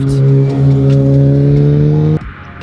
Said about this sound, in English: There's a lot of road noise out here, a lot of cars.